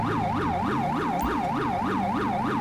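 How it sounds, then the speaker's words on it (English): Police car siren in a Liberty City video game, NYPD patrol, wailing loudly and steadily in a rapid repeating up-down sweep with a low engine rumble beneath, no talking. "I'll just put the sirens on for you guys."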